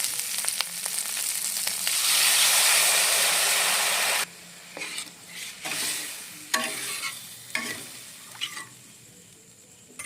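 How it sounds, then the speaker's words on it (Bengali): Water poured into a pan of fried spice paste for a rohu fish curry, first erupting in a loud hissing burst, then settling into softer bubbling with spoon scrapes and stirring clatter. "মশলাটা কষানো হয়ে গেছে এখন এর মধ্যে আমি জল দিয়ে দেবো"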